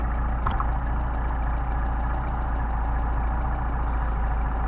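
A car engine fitted with Solex carburettors idles at about 1,000 rpm, a steady close low rumble with one sharp tap early on and no talking.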